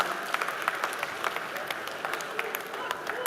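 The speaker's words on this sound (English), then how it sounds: "can we motivate him with a huge dynamic round of applause?" Conference audience applauding as a speaker walks on stage, a steady dense patter of clapping from a large hall, fairly distant and even in level throughout.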